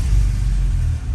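A car left unused for ten years, after a rusted fuel tank and an unplugged computer, runs with a loud, close, low rumbling idle that holds steady for about a second.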